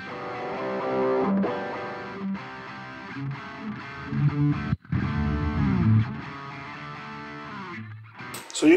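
Distorted electric guitar played through a Boss GT-1000 processor's Marshall amp model, a sustained chordal riff with a brief break midway and a sharp noisy burst at the end, loud and alone.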